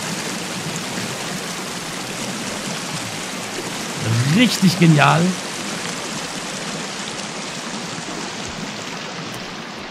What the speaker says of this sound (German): Leider finde ich die Wasserfälle halt wirklich noch mega laut im Moment.